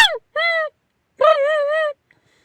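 A person's mouth call imitating tundra swans: two short nasal, wavering hoots, the second longer, close and clear with silence between them.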